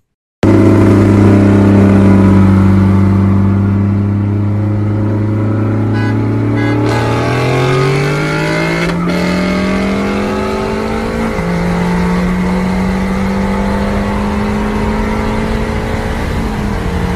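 A loud, close engine roars and climbs through several rising pulls with brief gear-change dips, as a modified Mazda 3 and an S550 Mustang line up for a street race.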